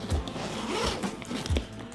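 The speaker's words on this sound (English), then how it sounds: "these zippers, by the way, have gotten quite a bit easier to use as I've used it" Zipper on a Nomatic Peter McKinnon camera bag being pulled open in a few quick, close rasping strokes with brief pauses between, quiet and alone.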